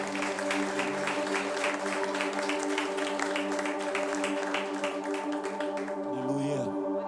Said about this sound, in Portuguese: Você pode aplaudir bem forte o Senhor Jesus.